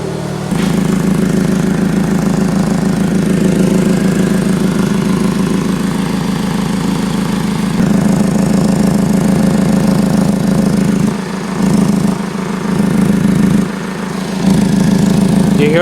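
Car engine idling with an exhaust leak: a loud, close, steady droning rumble that runs throughout and dips briefly a few times near the end.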